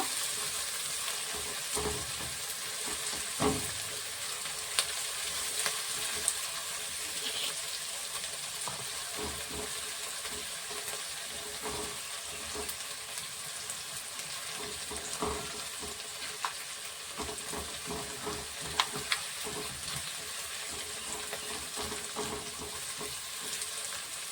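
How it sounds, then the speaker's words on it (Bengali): Chopped onion frying in a pan until reddish, with fenugreek seeds in the oil, for a chicken Patiala curry: a steady close sizzle with occasional stirring clinks and scrapes throughout, no talk. "পেঁয়াজটা ভালো করে একটু লালচে করে ভেজে নেবো"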